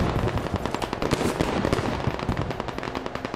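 Rapid, dense bursts of automatic fire from mounted guns in a military video game base defense, rattling continuously and loudly up close with overlapping shots throughout.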